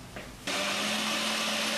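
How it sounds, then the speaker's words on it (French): A kitchen blender switches on and whirs steadily at full speed, puréeing flat parsley, cayenne pepper, salt and lemon juice into a herb cream cheese; a brief click precedes the loud, constant motor drone. "On passe le tout au mixeur."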